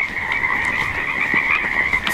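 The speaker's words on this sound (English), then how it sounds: "You guys hear those frogs?" Frogs croak in a misty forest on an early spring day, a dense, steady chorus of many calls running through the whole stretch with no pauses, fairly loud and close.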